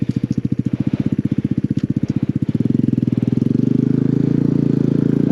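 Motorcycle engine revving hard off-road in a Texas snowstorm, a loud, close pulsing putter that shifts into a steadier, higher drone about halfway through as the bike pushes through snow.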